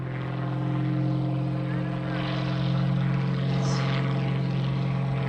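An aerobatic propeller airplane holds a nose-high hover at an air show, its engine droning loud and steady throughout, with an announcer's voice over the noise.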